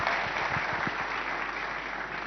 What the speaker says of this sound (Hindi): तालियां जरूर होनी चाहिए